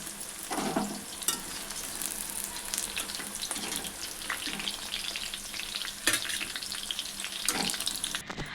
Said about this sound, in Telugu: ఆనియన్స్ వేగుతున్నాయి.